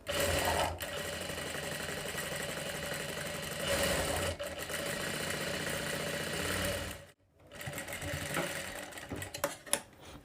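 A sewing machine stitches a boat neck blouse in close, loud bursts of rapid needle chatter, pausing briefly twice, with a short silent gap before stitching resumes more unevenly with a few knocks.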